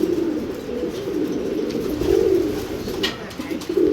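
Belgian racing pigeons, a newly paired couple, coo steadily in a loft with a low, repeated rolling rhythm, close by and fairly loud with no voices over them.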